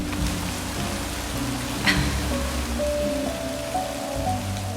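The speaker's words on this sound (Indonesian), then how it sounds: "sambil nunggu hujan reda" Steady rain falls in a continuous, even hiss outdoors, with a brief brighter patter midway and low background noise underneath; no voices.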